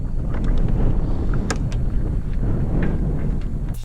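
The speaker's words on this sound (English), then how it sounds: "You hear that wind? That's at 5:30 in the morning." Strong early-morning wind at 5:30 am buffeting outdoors, a loud, rumbling low roar with gusting surges and occasional light rattles and knocks, close and continuous throughout.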